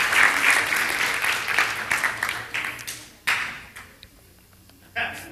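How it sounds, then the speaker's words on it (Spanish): A church congregation gives a round of applause that is full at the start and then thins into a few separate claps, with brief murmuring voices mixed in. "Un aplauso para Cesarín."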